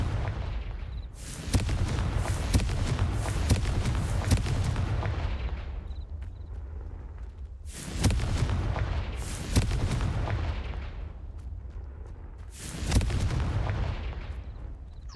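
Spell blasts from Confringo in Hogwarts Legacy, a video game, land as repeated loud booming explosions, roughly four heavy bursts spread out with rumbling tails between them and no talking.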